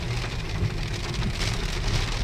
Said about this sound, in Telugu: ఫుల్ అంటే ఫుల్ వర్షం పడుతుంది.